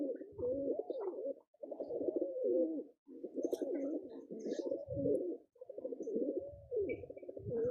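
Pigeons give soft, repeated throaty coos in a series of rolling phrases with short pauses between them, fairly quiet and close, with no talking.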